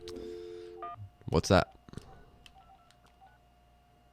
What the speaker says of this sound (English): why don't we make a phone call up to Chicago here real quick?